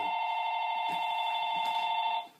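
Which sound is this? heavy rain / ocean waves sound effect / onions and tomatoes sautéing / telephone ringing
telephone ringing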